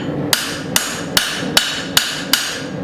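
Six evenly spaced hammer blows ring out on hot steel while forging a small short-body tomahawk, close and sharp over a steady roaring background.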